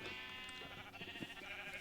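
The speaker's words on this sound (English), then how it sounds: "We have so many sheep." Sheep bleat in the video game Minecraft, a faint wavering bleat over a soft, continuous background tone, with no one talking.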